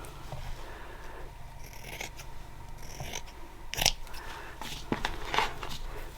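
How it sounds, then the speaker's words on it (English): Scissors snipping through fabric while covering a cereal-box journal, a series of soft crisp cuts with small rustles, fairly quiet and close, with brief faint background murmurs. "Use the spots to help me cut straight"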